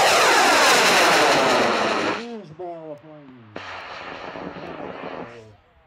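A two-stage Quantum Leap AllSkid high-power model rocket, flown on a J360 motor to an H178, launches with a loud, dense roar for about two seconds. The roar then fades and voices talk over a lower rushing sound.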